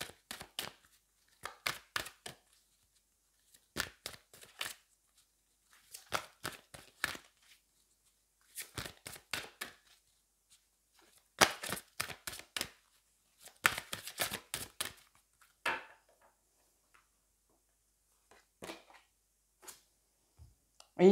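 A deck of tarot cards is shuffled by hand in repeated short bursts of riffling and slapping, each burst a quick crisp flutter separated by pauses, close and fairly quiet.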